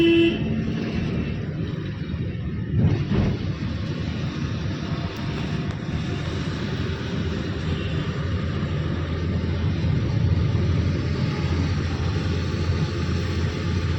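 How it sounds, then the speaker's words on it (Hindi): A car engine over 30 km/h held in a low gear, revving hard and straining for an upshift during a driving lesson, a steady loud droning rumble that runs continuously throughout. "आपकी 30+ गाड़ी है, गियर मांग रही है, देखिए साउंड ज़्यादा कर रही है ना"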